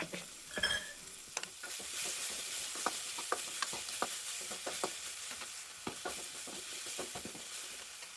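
Chopped tomato and crushed cumin sautéing with salt in a pan for a home-style soybean curry, a steady close sizzle broken by repeated sharp scrapes and clicks of a spoon stirring.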